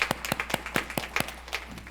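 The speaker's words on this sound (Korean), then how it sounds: "박수로 환영하겠습니다" At a church worship service, a small congregation claps to welcome visitors. The applause is light and fairly sparse, with separate claps heard clearly, and it fades out after about two seconds.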